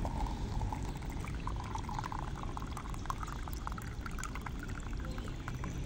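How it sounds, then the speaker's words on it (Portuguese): Clean water pours steadily into a container for animals to drink, a continuous quiet splashing trickle with no voices, lasting several seconds. "vem beber água limpa aqui ó, Johnny."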